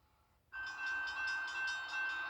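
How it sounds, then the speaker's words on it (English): A stopped freight train starts up suddenly after near silence, a loud steady horn-like tone over rumbling noise with a faint pulsing rhythm, heard from nearby. "A train stopped us in our tracks during this interview."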